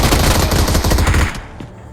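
Sustained machine-gun fire in the BGMI (PUBG Mobile) battle royale game, Skyhigh Spectacle mode: a loud, rapid burst of close shots running about a second and a quarter, then cutting off into a faint trailing echo.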